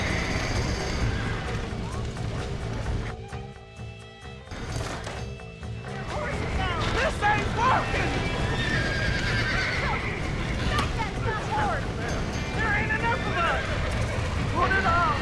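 Horse in the Red Dead Redemption video game whinnying and snorting repeatedly over clip-clopping hooves and game ambience, with a player talking over it.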